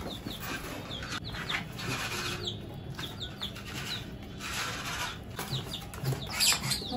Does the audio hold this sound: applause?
no